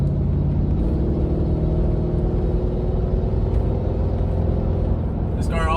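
Mercedes C55 AMG with a six-speed and a straight-through exhaust to a large muffler, resonator deleted, pulling hard in a 0-60 run: a close, loud, rising engine and exhaust drone, continuous throughout.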